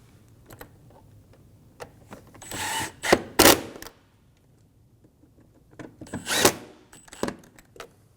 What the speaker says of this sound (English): Go around and snug down all of the screws.